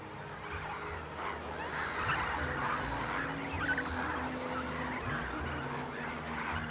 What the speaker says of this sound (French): ce lac est le rendez-vous des oiseaux migrateurs qui vont de l'Europe à l'Afrique